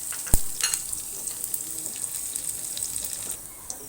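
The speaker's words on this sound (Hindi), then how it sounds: "अब हम इसमें ज़ीरा डालेंगे, कड़ी पत्ता और ये लहसुन जो हमने काट के रखा हुआ था।" Cumin seeds, curry leaves and chopped garlic sizzling in hot oil for a dal, a steady crackling fry with a sharp pop near the start, moderately close and without speech.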